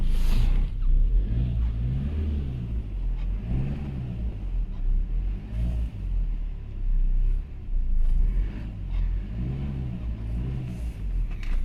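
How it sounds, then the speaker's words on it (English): An old car's engine revs up just after starting, rising and falling in repeated throttle blips over a low idle rumble, close by and with no talking. "Right, started the car, and all that's on is the oil light and service required. So let's just rev it up a bit."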